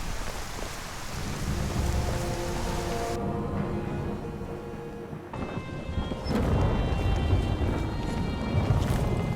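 A thunderstorm rolls through the Skyrim video game world: steady heavy rainfall patters throughout while deep thunder rumbles and swells, loud and enveloping, with no talk.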